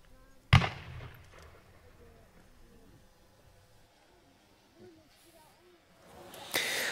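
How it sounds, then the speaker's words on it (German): Blue Flower Crown fireworks mine fired from a loaded tube in a V-fan, heard as one sharp loud bang followed by quiet, then rising noise at the end. "Es folgen nun unsere Feuertöpfe, und zwar als nächstes auf Position 39 die Blue Flower Crown, fertig verladen im Rohr"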